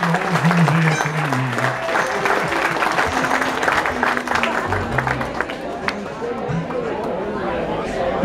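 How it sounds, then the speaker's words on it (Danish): A jazz and folk tent audience applauds a jazz musician with sustained, dense clapping and crowd chatter, while a voice speaks over the noise. "Han skal have et ekstra bifald."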